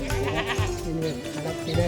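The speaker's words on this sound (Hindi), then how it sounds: "जहाँ मुझे ये प्यारे से बकरी के बच्चे भी दिखे।" Young goat kids bleat beside an old Aryan house in a Suru Valley border village in Kargil, with several loud, close, overlapping cries.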